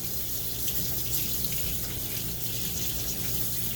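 Water runs steadily from a tap in a constant, even gush, close and unbroken for several seconds.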